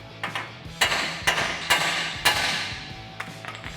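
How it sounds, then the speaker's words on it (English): A hammer striking the side of a steering knuckle on a 2004-2023 Ford F-150 front suspension to pop the ball joint loose: about six sharp metallic blows at a steady rhythm, close and loud, followed by lighter taps. "we can take a hammer and strike the side of the knuckle here to pop our ball joint loose."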